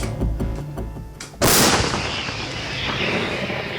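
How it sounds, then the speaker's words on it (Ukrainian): A single massive artillery gun blast booms out suddenly after a few seconds of low rumble, its heavy echo rolling away slowly, during shelling of Nikopol, Ukraine. "Гармата! Постріл!"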